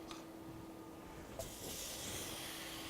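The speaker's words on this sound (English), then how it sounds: "I'm going to add onions and garlic" Onions and garlic drop into a hot roux for turkey and oyster gumbo, a quiet steady hiss swelling into a broader, louder sizzle partway through that holds to the end.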